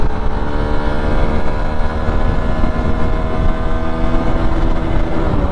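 A Hero XPulse 200 motorcycle running at top speed, a loud, steady engine drone with whining harmonics and wind rush, continuous throughout without any talk.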